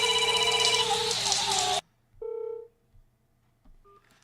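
A telephone call coming in on a radio show: loud music cuts off abruptly, then a short electronic ring tone sounds alone, followed by a faint beep in the quiet.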